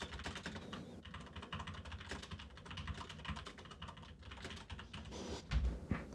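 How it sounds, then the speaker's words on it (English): Fast, clicky typing on a computer keyboard fills the whole stretch, dense rapid keystrokes up close with a heavier thump near the end. "a keyboard that's less clicky that I use just for this show"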